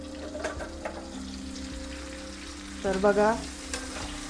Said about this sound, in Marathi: थोडं पाणी घालायचं आणि फ्लेम मीडियमवर ठेवायची आणि वांगी परतू द्यायची 5 मिनटासाठी फक्त.